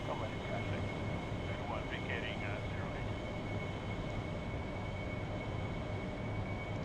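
Aircraft engine with throttle added on landing approach, a steady droning hum with a sustained tone running throughout while a voice talks over it.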